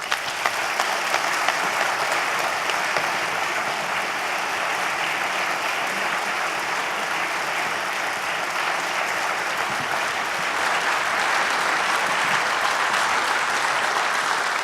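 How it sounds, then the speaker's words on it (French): A conference audience claps steadily after the closing speech of the FNTR 2017 congress, a dense, even wash of applause from a large crowd that holds for about fifteen seconds and swells slightly near the end. "Merci de vos applaudissements et de votre présence."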